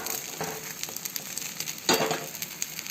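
A spinach omelette fries in a pan with a steady, close sizzle and crackle throughout. Irregular pops and a louder burst of spitting come about two-thirds of the way in, with no talking.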